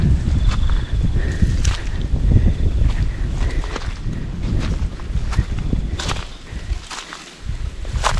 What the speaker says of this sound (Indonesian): Anginnya juga lumayan cukup besar.